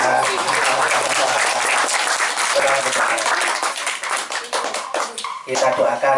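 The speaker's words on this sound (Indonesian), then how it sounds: "Tepuk tangan untuk Kelvin." Students in a classroom applaud a classmate named Kelvin, a busy, close round of many hands clapping that thins toward the end into scattered individual claps, with voices murmuring underneath.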